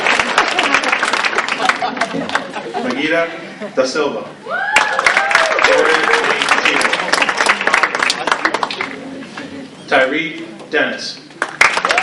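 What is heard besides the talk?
audience applause at a banquet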